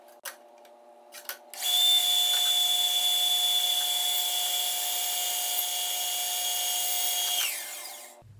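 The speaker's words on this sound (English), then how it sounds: "I need to cut 4 dowel rods." A power saw runs steadily for about six seconds, cutting short lengths from a 3/16 inch wooden dowel rod, loud and close with a constant high whine after a few brief starting bursts.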